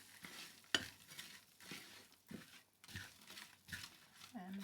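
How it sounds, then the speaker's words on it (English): A base mix hits foaming butter in a hot pan and fries gently, with soft sizzling and stirring scrapes in irregular bursts and a sharp clank near the start. It sounds fairly close and low in level, with faint voice-like sounds at the end. "when the butter is foaming, as it is right now, then we chuck in the base mix"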